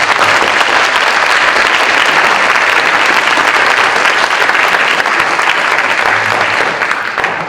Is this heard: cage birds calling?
no